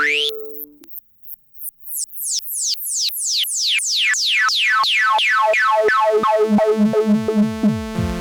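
Novation Peak synthesizer plays rapid descending sweeps through its high-pass filter that repeat faster and faster, bright and filtered, forming a pulsing cascade of tones.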